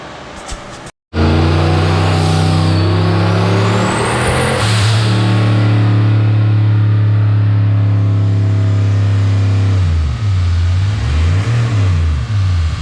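A car engine revving hard through a pull on a dynamometer, making a very loud, sustained roar that climbs steadily in pitch, holds near the top, then warbles and drops away as the run ends.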